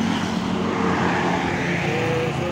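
A large intercity bus rumbles past on a road near the Surabaya city limits, a loud continuous engine and tire roar close by, swelling slightly then holding steady.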